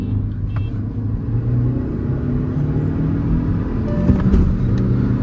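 A Škoda Slavia 1.5L and a Hyundai Verna Turbo 1.5L, both manuals, accelerating side by side in a drag race, giving a loud, continuous engine rumble with a brief gear-change blip near the end.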